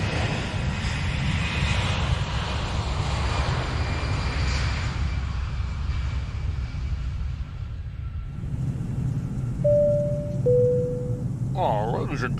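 Steady airplane engine drone used as an in-cabin sound effect, a low continuous rumble and hiss, with a brief two-tone chime near the end.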